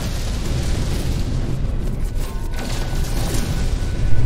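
Ship weapons blasting asteroids in the space game No Man's Sky, a continuous loud rumbling roar of bursts and booms that swells slightly near the end, with no voices.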